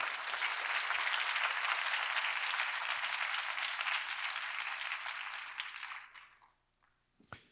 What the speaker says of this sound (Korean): 이러면 박수가 나와야 돼요